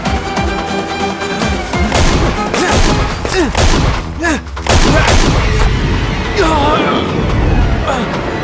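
Gunfire and heavy impacts crash through a tense Tamil police action film scene, loud and dense over several seconds, mixed with crowd hubbub and shouting voices.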